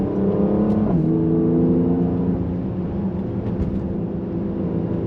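A Mercedes-AMG GLC 43 Coupe engine pulls hard and steady, its pitch dipping at a gear change before climbing again, loud and continuous with no talking.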